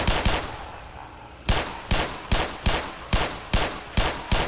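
A rapid-fire gun in the video game Black Mesa: Xen fires two quick shots, pauses, then fires a steady string of sharp, evenly spaced shots, loud and close with no talking.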